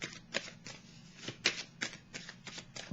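Tarot cards being shuffled up close, a series of quick riffling bursts and soft slaps in an uneven rhythm, fairly quiet, with no talking.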